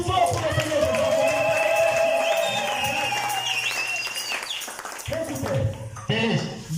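A church congregation applauding and cheering for the Lord, loud sustained clapping and crowd noise under a preacher's voice, fading briefly before the voice resumes.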